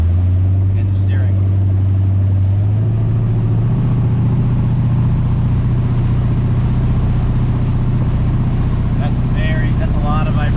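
A 1986 Ski Nautique boat engine runs steadily on a test run, a loud continuous low drone with heavy vibration, its pitch rising slightly, while people talk over it.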